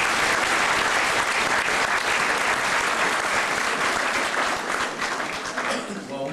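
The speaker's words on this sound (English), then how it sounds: "Could you please give a round of applause for our next speaker?" Loud sustained applause from a large crowd, steady clapping that fades slightly at the end.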